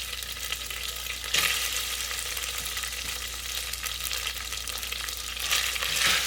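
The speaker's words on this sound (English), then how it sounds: "And here's our linguine going back in." Cooked linguine is stirred back into a pot with avocado oil, giving a steady close sizzle and frying hiss with soft stirring scrapes throughout and louder surges near the start and end, no voices.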